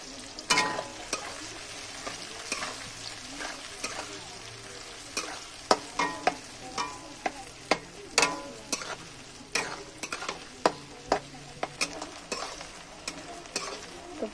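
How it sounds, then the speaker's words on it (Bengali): Onions frying in hot oil for biryani, stirred with repeated sharp scraping clacks of a utensil against the pan over a soft, quiet sizzle, the strokes coming in irregular bursts, no talking. "এবার আমি এখানে বেরেস্তা করার জন্য পেঁয়াজগুলো কিন্তু ভেজে নিচ্ছি"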